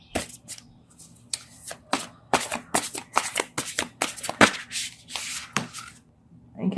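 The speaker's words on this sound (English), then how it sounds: "these cards are so big, they're hard for me to shuffle." Large oracle cards being shuffled by hand in quick, uneven bursts of riffling and slapping, close up, with short pauses between.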